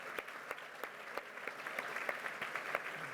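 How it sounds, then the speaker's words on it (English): Steady applause from an audience at a design awards ceremony, a dense patter of claps with sharper individual hand claps poking through, moderately distant and even throughout. "Could you have one more round of applause for the staff of Cooper Hewitt?"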